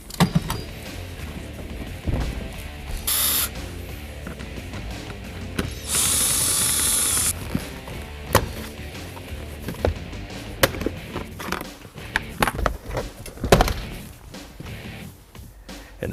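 A ratchet undoing the seat bolts inside a Ford F-150 cab, with rapid clicking pawl bursts and mechanical rattling, close and loud, alone with no talk.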